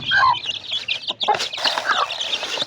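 Chickens cluck and chirp busily at close range while being given feed on a small farm raising young birds, with overlapping high calls and no talk.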